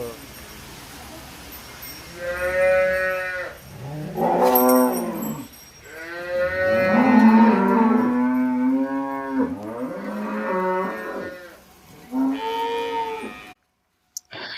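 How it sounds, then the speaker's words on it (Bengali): Cattle at a Bihar cattle shed moo repeatedly, several long, loud lowing calls following one another over a steady low farmyard background, with a brief clink near the middle. "এই গরুটা হচ্ছে বিহারের একটা খাটালের গরু"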